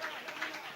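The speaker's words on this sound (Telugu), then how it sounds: "చప్పట్లు కొట్టండి" A church congregation clapping, a dense continuous patter of many hands over a brief moment, moderately loud and slightly distant.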